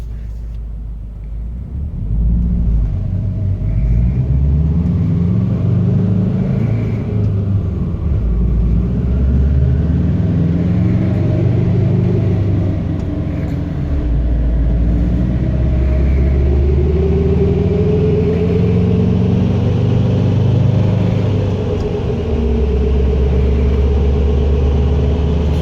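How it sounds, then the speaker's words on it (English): A new car engine running on a dyno in fourth gear at about 40 mph, a loud, steady low rumble with gentle swells in revs throughout, no talk. "we're cruising at about 40 miles an hour right now on the dyno in fourth gear"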